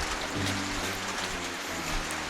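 Steady rain falling outdoors, a continuous close hiss of drops on surfaces with no talking.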